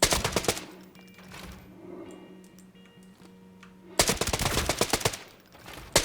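Rapid automatic gunfire bursts from a weapon in an extraction shooter video game, loud and close, opening with a short burst, then a quiet stretch of faint ticking, then a long heavy burst and another brief one at the end.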